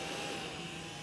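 A small cooling fan on an LED fog light bulb for a Ford F-250 Super Duty gives off a steady, faint, airy whir with no change in pitch or level.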